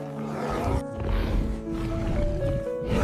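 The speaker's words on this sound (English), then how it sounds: "With a sudden leap, the tiger charges, chaos erupts." A tiger roars as it charges, a loud, rough, sustained growling roar with harmonic tones that holds steady for about three seconds, close and dominant with brief dips in level.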